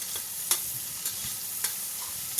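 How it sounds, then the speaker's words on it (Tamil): Onions sizzle steadily in a pan, with a few scraping stirs at regular intervals cutting through the continuous frying hiss. "நல்லா வெங்காயம் வதங்கும். நல்லா கலந்து விட்டுப்போம்."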